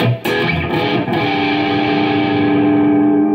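Distorted electric guitar, an Ibanez SIX6FDFM in humbucker mode, strums a chord and lets it ring out with a thick, saturated sustain that slowly decays, played alone and loud.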